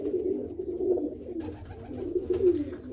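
Pigeons coo steadily in soft, repeated rolling phrases at close range, fairly quiet and without any talking.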